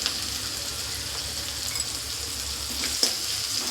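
Capsicum pieces sizzle steadily in a hot pan while being stirred, with a soft scrape of the utensil near the end. The frying is close and moderately quiet, and no one speaks.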